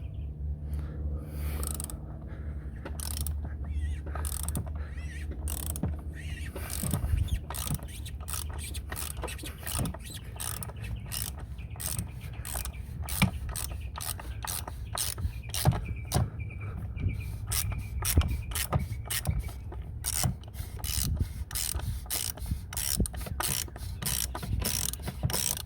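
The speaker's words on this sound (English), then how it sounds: "Alright, so I have my socket wrench on here." Socket wrench loosening the oil drain plug on a 2017 Land Rover Discovery TD6 diesel, with rapid ratcheting clicks throughout, fairly quiet and close, with scraping and handling noises mixed in.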